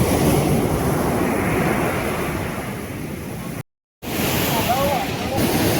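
Sea waves break continuously on the shore where fishing boats are being launched, a loud wash of surf and wind over the whole stretch, briefly cut off by a gap of silence near the end.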